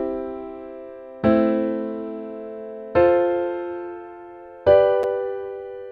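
Three sustained piano-like chords struck one at a time, each left to ring and decay, stepping through a simple one-six-four-five progression, clear and alone with no talk.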